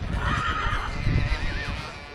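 A draft horse whinnies during a draught-horse judging contest at a village fairground in medieval Besse. The neigh is a clear, wavering call rising and falling across the whole clip, over steady crowd and outdoor background noise.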